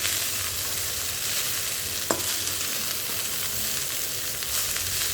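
Leftover-rice fried rice with potato and egg is tossed and mixed in a hot pan. A constant dense sizzle runs throughout, with one brief utensil clink partway through and no speech.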